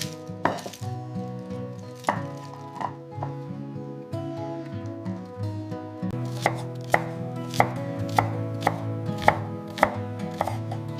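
Knife chopping shallots and garlic on a cutting board, a series of close crisp thuds that start sparse and quicken into a steady rapid rhythm, heard alone without talk.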